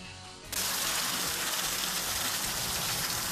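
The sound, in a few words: heavy rain during Bay Area storm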